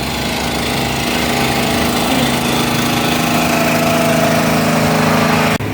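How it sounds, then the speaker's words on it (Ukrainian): A power generator running outside a restaurant, a loud steady engine drone with a constant low hum that stops abruptly near the end. "О, як від генератора навіть ресторан працює все світиться так."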